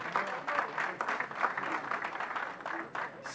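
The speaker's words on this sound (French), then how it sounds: "acclamons pour elle." An audience at a Brazzaville gathering of sapeurs bursts into steady applause, a dense wash of clapping that carries on throughout the short stretch.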